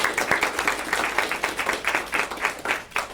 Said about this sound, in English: So let's just give a round of applause.